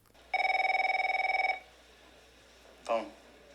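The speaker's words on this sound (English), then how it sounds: "Phone." An old-style telephone bell rings in a burst of rapid trilling for just over a second in a scene from the 1995 film Se7en, then falls quiet before a short spoken word.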